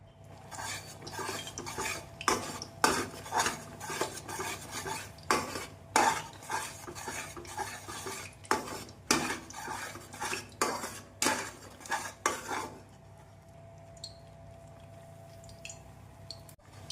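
A metal ladle scrapes and clinks rhythmically against a pot, stirring oil and ghee into a sugar-flour mixture for Mysore pak over and over for several seconds, then stops, leaving a faint sizzle.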